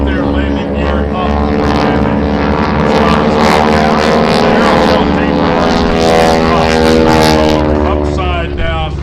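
A propeller airplane at an air show roars loudly and steadily overhead, its engine drone holding strong throughout while a commentator talks over it.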